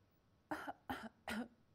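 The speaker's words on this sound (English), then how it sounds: "This is coughing." Three quick, evenly spaced coughs, close and fairly loud, against a quiet background.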